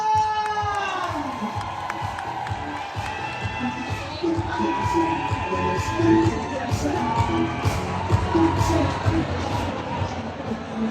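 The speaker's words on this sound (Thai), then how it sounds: "ทุกท่านตามขอเสียงปรบมือดังๆต้อนรับ" A crowd at a corporate event opening claps and cheers loudly to welcome the managing director onstage, with shrill shouts and whoops rising over sustained applause throughout.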